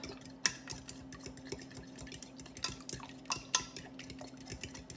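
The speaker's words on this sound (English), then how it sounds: "Okay, so we got our milk and eggs in there. We're just going to mix that up." Milk and eggs are beaten together with a fork, producing a steady, close stream of light tapping and clicking against the dish, with a few sharper knocks standing out, no voices.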